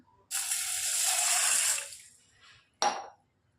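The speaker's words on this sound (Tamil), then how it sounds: "நம்ம தண்ணி ஊற்றி வச்சிடலாம்" Water poured from a vessel over dried cowpeas in a bowl for soaking, a close splashing pour lasting over a second, then a short second splash after a pause.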